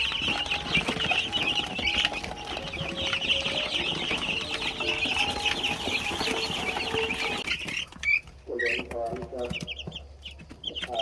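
A flock of 20-day-old Pradu chicks chirping and peeping busily and continuously while jostling over feed, close by; the chatter thins near the end as someone speaks.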